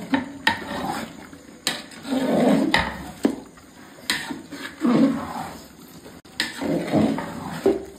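Chicken biryani gravy being stirred in a large pot for a village-style batch serving 30 to 40 people, a spoon scraping and clanking against the metal in repeated strokes, with soft bubbling between the scrapes.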